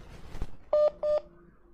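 Telephone keypad dialing tones: two short, distinct DTMF beeps in quick succession, loud and clear after a brief thump, with no talk over them.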